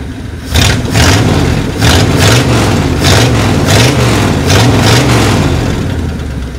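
V8 engine of a Mercury Comet, a shed find that sat for 31 years, running with one long and one short exhaust, loud and close, with a steady rumbling idle and repeated rhythmic revving pulses.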